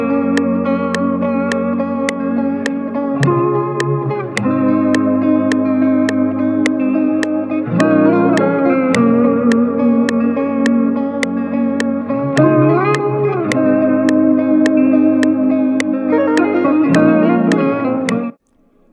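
Guitar static pad chords recorded in FL Studio for an Afrobeats track, sustained processed chords with echo and chorus shifting every few seconds, loud and alone until an abrupt stop near the end.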